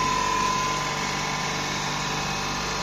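A large roots vacuum pump hums steadily with a continuous mechanical drone and a faint high whine, constant and close, with no talk.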